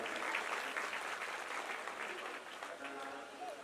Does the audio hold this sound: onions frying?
no